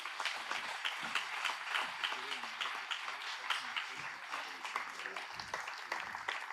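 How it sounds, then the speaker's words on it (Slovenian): Audience at a municipal holiday celebration in Izola breaking into sustained applause, dense clapping throughout at a fairly faint level with some voices underneath. "Lepo prosim za en aplavz."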